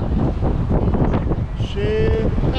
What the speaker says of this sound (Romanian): Ceva vânt pe lac.